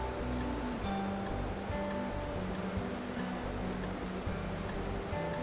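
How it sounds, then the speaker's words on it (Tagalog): Loud rushing water roars continuously and evenly, a dense unbroken wash of sound close by. "Grabe yung tunog ng tubig."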